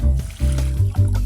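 Water poured slowly at a rural farmhouse, a soft uneven gurgling fill lasting about a second, fairly close and with no talk over it.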